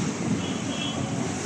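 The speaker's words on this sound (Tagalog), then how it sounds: "Sobrang lakas ng hangin oh." Strong wind during a thunderstorm roars and buffets the microphone in a dense, continuous rumble, loud and close throughout.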